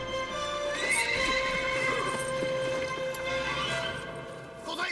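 A horse neighs and whinnies loudly with clip-clopping hooves in a Chinese historical drama battle scene, the steady animal sounds running under dramatic background music.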